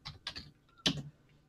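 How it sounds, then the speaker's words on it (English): Typing on a computer keyboard: a few quick, close key clicks in short bursts with brief gaps, clear and isolated in a quiet room. "the Elevate user is going to type some text in"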